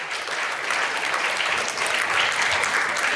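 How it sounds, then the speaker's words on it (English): A convention audience at a toy panel applauds Super 7, with steady, dense clapping from a sizable crowd holding at an even loudness throughout. "that does deserve an applause"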